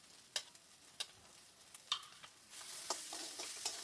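Turmeric powder is stirred into potatoes frying in a pan for a potato dal, faint scraping strokes of a spatula at intervals over a soft sizzle that grows a little louder.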